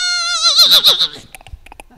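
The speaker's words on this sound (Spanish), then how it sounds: "Llegue también el caballo." A horse gives a loud, close whinny, starting with a high, quavering neigh and ending in a few breathy snorts and small noises.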